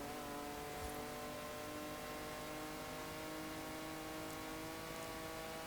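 A car engine in Forza Horizon 4 holds a steady, droning note with layered harmonics, running continuously and fairly evenly throughout with no voices.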